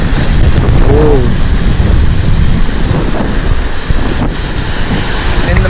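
Ocean waves wash onto Mirissa beach in a loud, continuous roar of surf, heavily mixed with gusting wind buffeting the microphone throughout.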